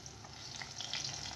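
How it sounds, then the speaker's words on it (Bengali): Battered pumpkin flowers dropped into hot oil, giving a brief, soft, steady frying hiss at low volume. "এখন এইভাবে এক একটা ফুল ব্যাটারে ডুবিয়ে তেলে দিয়ে দিব।"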